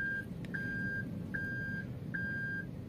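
Reversing warning beeps from a Toyota Veloz backing up, three evenly spaced steady electronic tones, each held for about half a second, sounding clearly over low engine and cabin rumble.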